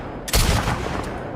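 Gunfire in The Last Of Us video game, a sudden loud burst of shots that rings out and decays over about a second.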